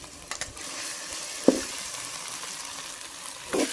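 Onions and ginger garlic paste frying in a pan, a continuous hissing sizzle with a couple of sharp stirring clacks, no voices.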